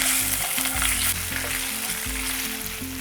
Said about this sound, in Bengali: আদা বাটাটাকে হালকা একটু ভাজা করে নিয়েছি।